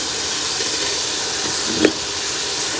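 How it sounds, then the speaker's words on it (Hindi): Boiled macaroni tipped into a hot pan of fried chicken masala gives a steady, loud sizzle and hiss throughout, with a brief sharper burst partway through as the pasta lands. "अब हम इसके अंदर अपनी मैक्रोनीज़ ऐड करेंगे।"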